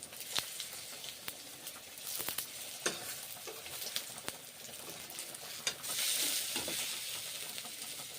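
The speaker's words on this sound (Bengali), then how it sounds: "উল্টে পাল্টে ভেজে নিচ্ছি বড়াগুলোকে" Lentil fritters (bada) frying in a pan and being turned over, close and lively: continuous sizzling broken by stirring scrapes and clinks, with a louder burst of sizzle near the end.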